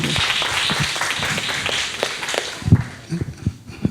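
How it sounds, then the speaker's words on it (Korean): Audience at a university lecture gives a short round of clapping, a busy patter of hand claps that thins into a few scattered, sharper claps at the end. "박수 한번 보내주세요."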